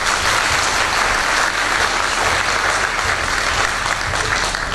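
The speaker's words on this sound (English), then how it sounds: "I would like to request to all of you to give a big clap" An audience at a welcome speech claps together in steady, dense applause for about five seconds, loud and even throughout, with no one speaking over it.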